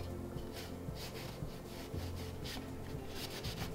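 Painted wood furniture is being wet-distressed by hand, with steady rhythmic rubbing strokes scraping back and forth, quiet and close with no talking.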